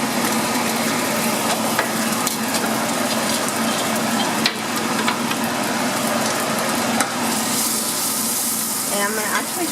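Onions sizzle steadily in a hot pan used for frying milanesa steaks, a continuous loud hiss with light stirring scrapes running under a person's talking.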